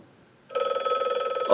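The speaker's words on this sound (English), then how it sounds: "The phone's ringing." A telephone bell sound effect rings loud and close, a rapid trilling ring starting after a brief silence and continuing to the end.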